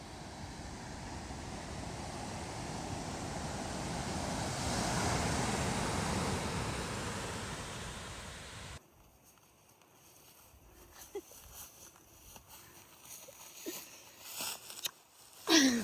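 Surf washing onto a beach on the Mendocino coast, a broad steady roar for about nine seconds, then quieter, thinner water sounds with scattered clicks and rustles close to the microphone.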